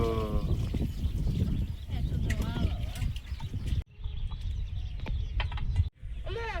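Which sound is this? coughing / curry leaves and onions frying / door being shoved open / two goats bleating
two goats bleating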